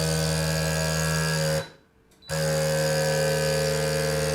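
A food vacuum sealer machine's steady mechanical motor hum and buzz runs throughout, briefly cutting out to near silence midway before starting back up at the same level.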